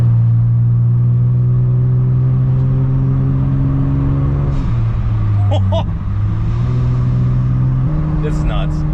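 An Acura TL Type-S fitted with a Gerzy Bear Rotrex supercharger pulls from inside the car, a loud close engine drone holding steady, dipping at a gear change, then climbing again, with voices occasionally heard.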